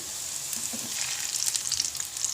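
Amla pieces sizzle in ghee with jaggery in a pan, a steady close crackle with occasional stirring scrapes rising slightly toward the end.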